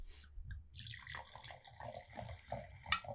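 Rhône wine from Domaine du Val de Rois poured into a glass, a bright liquid splashing and trickling for about three seconds, close and fairly quiet with a few sharper clinks near the end.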